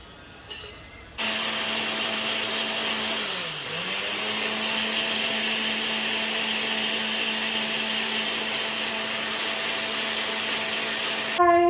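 A small motorized coffee blender whirs steadily at a constant pitch for several seconds while blending milk and coffee, briefly dipping as it catches, then cuts off.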